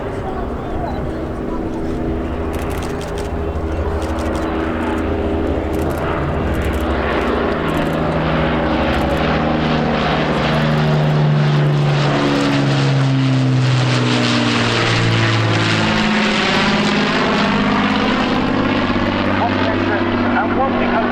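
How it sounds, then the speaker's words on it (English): Aircraft engines roar at a military air show, a loud, rising drone that builds as the planes approach, with the pitch bending downward as they pass close overhead. A commentator speaks over the public address. "appreciate the roar of the iconic engines as they make their approach now"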